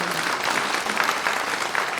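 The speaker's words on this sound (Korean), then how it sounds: "우리 이분들 좀 격려의 박수 해드리면 어떨까요?" A church congregation applauds in encouragement during a prayer-school service, producing a steady wash of many hands clapping together with no break for its short length.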